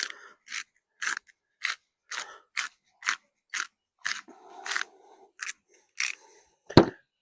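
A pepper grinder cranks out about a dozen short, crisp crunching bursts in a steady rhythm, close and clear with quiet gaps, as pepper goes onto lamb for a camp oven roast.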